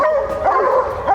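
Hounds barking and yipping at a bear cub treed in North Carolina bear country, several loud, close, overlapping barks and whines in quick succession.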